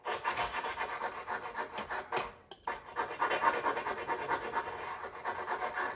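Steady scuffing of a surface by hand to rough it up before epoxy, a continuous dry rasping rub with a brief pause midway, close and fairly quiet.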